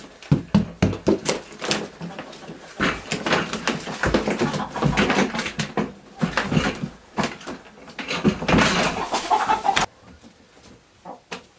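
Chickens cluck steadily at close range in a farm pen shared with ducks and turkeys, forming a busy stream of overlapping calls over about eleven seconds before fading to quieter noise.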